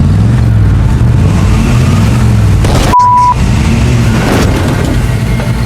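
A car deliberately ramming into another car in a traffic jam, with loud engine rumble and a sudden sharp impact midway, followed by a brief high tone and continued engine noise.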